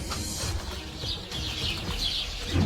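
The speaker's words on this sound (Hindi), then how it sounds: "तेरी मुर्गियों ने शोर मचाकर मेरे कान खराब कर दिए हैं" Busy poultry noise with chickens clucking and chirping together over a dense background, continuous and moderately loud, no talking.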